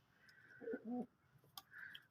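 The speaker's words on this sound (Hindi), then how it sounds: "ये देखिए आ गए हैं कबूतर पानी पीने के लिए" Pigeons gathering at a water bowl in hot weather give a couple of soft, low coos, faint and close together, with a light click and quiet surroundings between.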